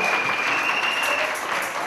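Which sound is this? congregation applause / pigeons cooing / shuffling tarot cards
congregation applause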